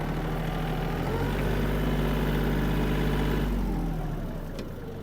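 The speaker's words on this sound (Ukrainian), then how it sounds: "Надзвичайно повільний тоді трактор буде" A Yanmar AF-250 mini tractor engine runs at a steady, low idle-like drone while the tractor creeps at its minimum super-low crawl speed. The rumble is close and fairly loud, easing slightly toward the end.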